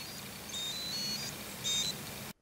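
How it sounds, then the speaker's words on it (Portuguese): Two bursts of a high electronic beeping tone from the anti-loss locator of Baseus Bowie E9 earbuds, short repeated chirps, over a steady low background hum; fairly quiet and close. "Você consegue mandar o bip facilitando você encontrar o mesmo."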